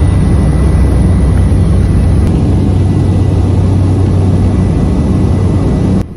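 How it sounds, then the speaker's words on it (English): A small airplane engine drones loudly and steadily in flight, heard from inside the cabin on a trip over the Indonesian jungle, with a constant low roar until it dips slightly at the end. "here's the plane, let's go."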